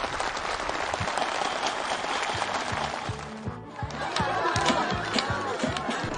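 Enthusiastic applause from a crowd of farm workers and officials at an outdoor housewarming ceremony: loud, sustained clapping with some rhythmic unison beats and cheering voices, briefly dipping midway before swelling again.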